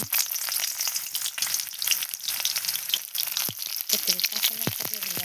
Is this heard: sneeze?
no